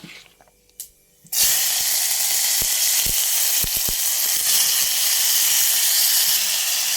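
Onion and tomato hit hot oil with a sudden loud sizzle that keeps crackling steadily, punctuated by a few sharp clicks and pops.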